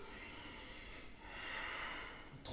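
Slow, steady yoga breathing held in Warrior 1 pose during an Ashtanga sequence: a long, airy exhale close to the microphone flows into a drawn-in inhale, with no talking.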